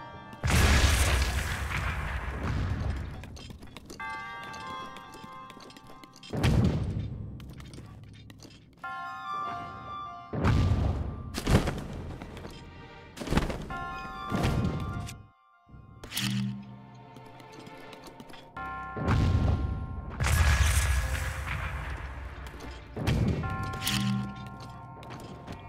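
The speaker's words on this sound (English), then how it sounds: "Two bombs." Bombs exploding in the video game Zelda: Breath of the Wild, a series of loud booming blasts spread across the stretch, each followed by a ringing tonal in-game music and effects, with short quiet gaps between.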